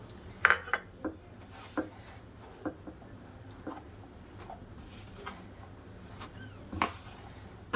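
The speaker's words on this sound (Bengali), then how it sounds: "দেখো ময়দাটা মেখে নিয়েছি।" Flour dough for pasta kneaded by hand in a bowl: scattered soft knocks and light clinks against the bowl, irregularly spaced over a low steady background hum.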